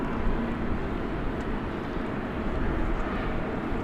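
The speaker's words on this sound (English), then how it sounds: "I think the one on the left is an Airbus A321." An Airbus A321 at DFW Airport at night produces a dense, rumbling broadband roar of engines, even and sustained throughout the short stretch, with no voices over it.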